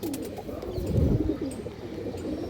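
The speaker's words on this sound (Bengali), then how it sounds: "এগুলো উঠতি লাইনের দোবাস দর্শক, পুরো ব্লাড লাইনের কবুতর।" A dobaz bloodline pigeon gives low, throaty cooing in a rolling, repeated pattern, close and moderately loud over a faint background.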